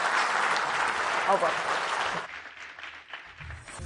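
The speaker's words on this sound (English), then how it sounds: "Please give a hand of applause." Audience clapping at a policy and business leaders' event, a roomful of applause fading after about two seconds while a voice speaks over and after it.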